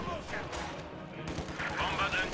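MG42 machine gun fire rattles through a video game battle in sustained, dense bursts, blending with other crackling combat noise in a continuous wash.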